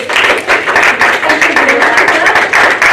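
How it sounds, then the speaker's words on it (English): Applause from an audience at an outdoor community talk on a sunny day, a steady dense wash of clapping that holds at an even level for about three seconds, fairly close, with no voices standing out. "So a round of applause for everybody."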